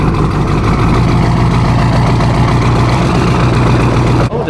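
A Duramax diesel truck engine, low on oil and leaking onto the exhaust, idles loud and close with a steady low rumble and clatter, cutting off abruptly near the end.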